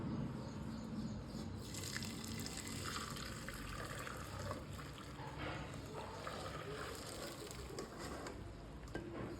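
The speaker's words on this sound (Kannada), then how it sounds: "ಈಗ ಇದನ್ನು ಬೇಳೆ ಸಪ್ರೇಟು, ನೀರು ಸಪ್ರೇಟ್ ಮಾಡ್ಕೊಳ್ಳೋಣ" Cooking water is poured off boiled lentils, a steady gushing, splashing pour running continuously at a fairly close distance with no speech.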